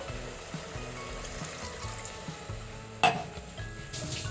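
Half a cup of water poured onto fried mutton in a pan makes a continuous close sizzling hiss with a sudden louder burst of spitting partway through, no voices.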